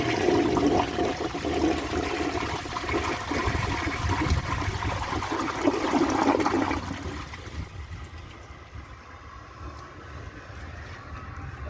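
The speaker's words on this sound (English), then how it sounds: "Now I just have to wait for the tank to fill. The tank is almost full, just about to the water line there. So let's give it a flush." A 1952 Briggs Prince toilet flushes with a loud, close rush of water that roars for about seven seconds, then drops to a quieter trickle and hiss as the tank starts refilling.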